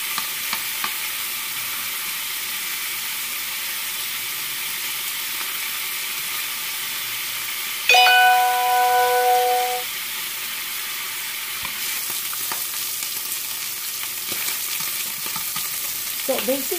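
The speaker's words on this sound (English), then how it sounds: "So this is the first step, searing." Pork searing in a hot pan for braised humba, a loud continuous sizzle and crackle throughout, with a brief tonal beep partway through and light clatter of handling near the end.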